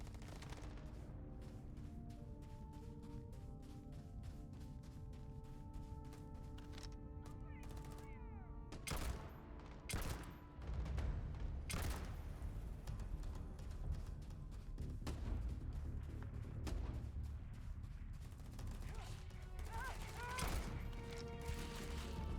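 Rapid bursts of gunfire in the video game Starfield crackle repeatedly over a steady background hum, dense volleys with occasional heavier shots, fairly faint and distant.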